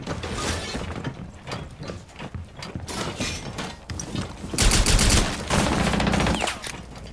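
Video game gunfire crackles in rapid bursts with mechanical clatter, loud and dense, swelling into a heavier volley near the end.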